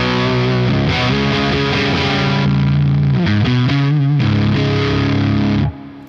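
An electric guitar plays through a REVV Tilt Overdrive pedal with the boost and gain raised, producing loud, thick, saturated chords and sustained notes that shift a few times before cutting off abruptly near the end.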